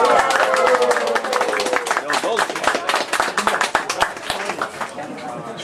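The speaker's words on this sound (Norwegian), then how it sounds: "Vi gir en liten applaus til de som har arrangert her i dag" Audience clapping for the event organisers at a gathering, a dense patter of many hands filling the whole stretch at steady strength, with some voices mixed in underneath.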